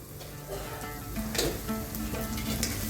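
Sabudana khichdi with sugar and salt frying in a pan, a steady soft sizzle with a few light stirring scrapes, close and unbroken, with no talking.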